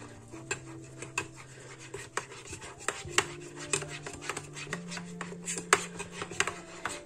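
Olive oil and honey are stirred into a soap mixture, a quiet clinking and scraping of a spoon against a bowl with irregular taps and a faint steady hum.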